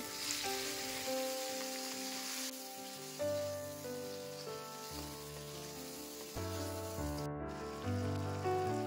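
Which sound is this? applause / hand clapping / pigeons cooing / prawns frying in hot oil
prawns frying in hot oil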